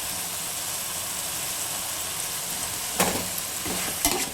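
Jackfruit curry pieces fry and sizzle in masala in a pan, a steady close hiss with a couple of sharp scraping stirs of a spoon near the end.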